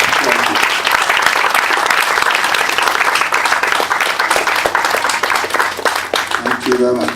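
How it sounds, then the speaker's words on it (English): An audience at a formal event claps collectively in a dense, sustained round of applause, with a voice speaking briefly near the end. "I'd ask you please to give a collective applause to all working."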